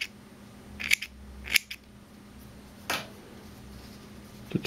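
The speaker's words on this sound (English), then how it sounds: "We'll cut off our selvage end." Scissors snip through the selvage edge of fabric while sewing a Y-back racer tank top, giving a few short, sharp cuts spaced apart over quiet room tone.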